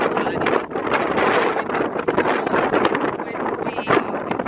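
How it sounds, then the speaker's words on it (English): Strong wind buffets the microphone at a beach during a rainy evening party in Bora Bora, a dense, continuous roar with gusty surges and no clear speech over it. "It's so windy."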